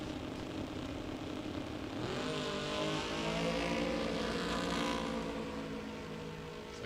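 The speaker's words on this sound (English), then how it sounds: "that car doesn't sound like it's running correctly" A nostalgia drag racing car at the California Hot Rod Reunion running rough as it pulls away down the strip, a steady distant engine drone that rises in pitch and swells, heard without talk.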